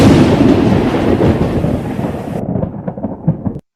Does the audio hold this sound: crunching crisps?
no